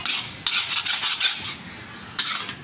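A thick ghee halwa is stirred in a heavy pan, giving close scraping and rubbing strokes in uneven bursts with short pauses, with no talk.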